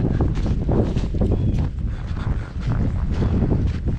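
Strong wind buffets the microphone on an outdoor street walk, a continuous loud roar with gusty surges throughout.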